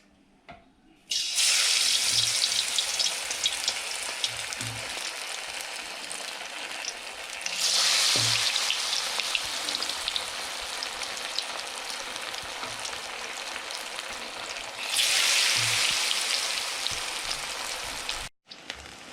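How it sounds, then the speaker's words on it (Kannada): Veg manchurian balls go one by one into hot oil and deep-fry with a loud, bright, hissing sizzle that surges each time more are dropped in and then settles into steady crackling, heard close up with no talking. "ಈಗ ಎಣ್ಣೆ ಕಾದಿದೆ. ಒಂದೊಂದೇ ಉಂಡೆಗಳು ತಗೊಂಡು ಅದ್ದಿ ಹಾಕೋಣ ಎಣ್ಣೆಗೆ."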